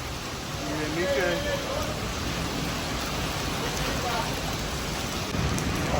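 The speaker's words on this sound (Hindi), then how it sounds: "बारिश की आवाज़ बहुत तेज है और सारे ओले पड़े हुए हैं" Heavy stormy rain with hail pours down outdoors as a dense, loud, continuous roar of drops on surfaces, with a few faint indistinct sounds mixed in.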